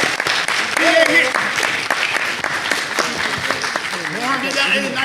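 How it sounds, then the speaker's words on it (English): A studio audience claps steadily and loudly throughout, with scattered voices and a host talking over the dense applause. "keep clapping, keep clapping"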